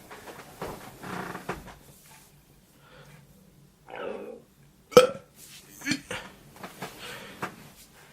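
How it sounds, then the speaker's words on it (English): A person lets out a single short, loud burp near the midpoint, with faint breathing and small shuffling noises before and after. "I feel like I'm going to burp."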